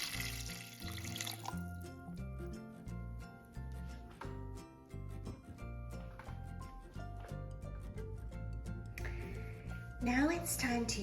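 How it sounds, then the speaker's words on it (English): Cold water streams from a tap and splashes into an Instant Pot liner, a steady pouring with clinks and drips, fairly quiet, under background music. "Then add the 8 cups of cold water."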